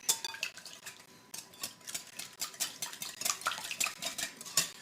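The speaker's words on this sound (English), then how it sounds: "And whisk this together." A whisk beats ingredients together in a bowl for a pumpkin waffle batter, giving quick rhythmic metallic clinks and scrapes at close range, fairly quiet, with no voices.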